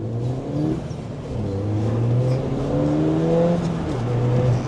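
A Ford Fiesta ST accelerates hard from inside the cabin, the engine note climbing steadily through the gears with a brief dip at a shift, loud and continuous with no talk over it.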